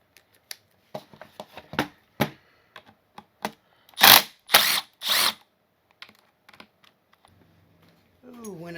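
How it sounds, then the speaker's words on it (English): Screws are removed from a Ridgid 18-gauge Hyperdrive brad nailer, a close series of sharp clicks and ratcheting screwdriver turns in irregular bursts, followed by a brief voice at the end. "keep taking screws out until it falls apart"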